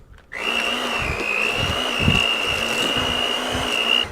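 An electric hand mixer whirs at a constant high pitch through chocolate chip cookie dough, a steady motor drone with faint rhythmic knocks from the beaters against the bowl, alone and close.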